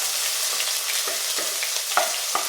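Crushed ginger and garlic fry in a pan for a beef and breadfruit dish, a steady close sizzle broken by several sharp spatters and the scrape of stirring, with no voices.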